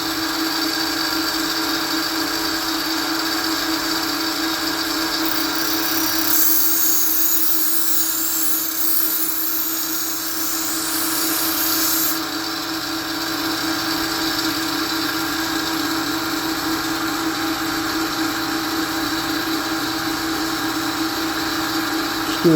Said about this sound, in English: We'll go ahead and grind it.